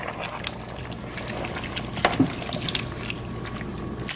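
Korean pork neck bone soup (gamjatang) with potatoes being stirred in a pot, soft liquid sloshes and wet clinks, fairly quiet and close, with a few louder splashy stirs midway.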